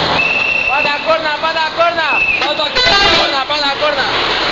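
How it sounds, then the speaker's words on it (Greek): Car horns blare at a toll station protest near Malgara, layered, wavering honks overlapping with traffic rumble and a crowd of voices talking and shouting, loud and continuous throughout. "Πάντα κόρνα."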